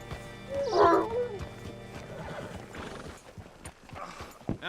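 A horse in the Red Dead Redemption 2 video game snorts and gives a sharp whinny, followed by softer snuffling and shifting hoof sounds, fairly close and with no talk.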